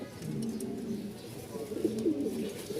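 White Top Bokhara pigeons in Andalusian colour give soft, low cooing notes, faint and close, over a light background hiss.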